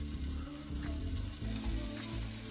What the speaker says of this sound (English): The pan is hot, so I'm gonna put the smoked lard in.